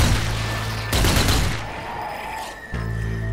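Rapid, dense gunfire in the Zombie Army 4 video game rattles in sustained bursts with heavy low booms, breaking off briefly before resuming, loud and close with no talking over it.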